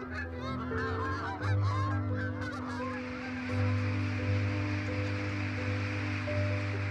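Canada geese take off on the Nevern estuary in Pembrokeshire with a loud chorus of repeated nasal honks, the calls crowding together at first, then thinning into a steady rushing of wings and water beneath.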